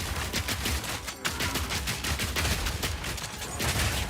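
Grenade explosions in Path of Exile 2, a rapid, dense barrage of sharp blasts and bursts layered over game rumble, continuous and fairly loud.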